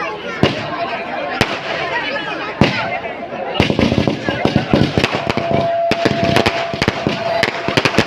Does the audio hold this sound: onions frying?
no